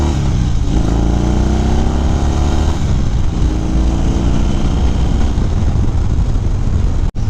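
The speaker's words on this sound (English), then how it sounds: "it definitely makes a more distinct Harley-Davidson sound" Harley-Davidson Fat Bob fitted with Screamin' Eagle Street Performance staggered dual mufflers, a loud, deep, rumbling V-twin exhaust heard up close, revving up and settling into a throaty steady drone with no talking.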